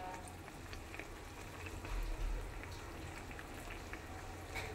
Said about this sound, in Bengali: আমার ঝোলটা ফুটে উঠেছে